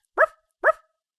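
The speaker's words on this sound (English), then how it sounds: "That's not a howler. That's Momoy, the dog." Two sharp, close barks from Momoy, the dog in the Piper's Pet Cafe video game, spaced about half a second apart with silence around them.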